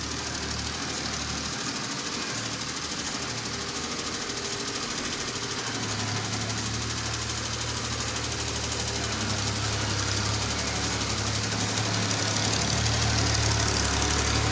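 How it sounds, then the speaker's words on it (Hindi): A tractor hauling a trolley arrives at a site where soil is being filled, its diesel engine running with a steady, loud knocking chug that swells slightly as it draws near, continuous throughout. "और यहाँ पर आ गई है ट्राली।"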